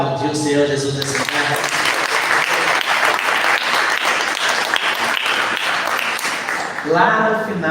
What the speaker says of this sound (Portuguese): Pode aplaudir o Senhor Jesus nesse lugar.